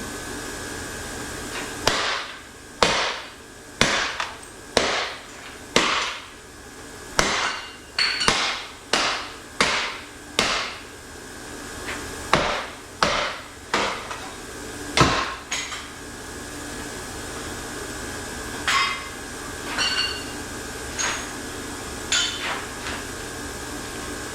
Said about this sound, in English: smack it with a big hammer